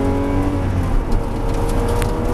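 A Porsche GT3 pulls hard on a race circuit, its engine note steady and loud from close by and building under acceleration, with no talk over it.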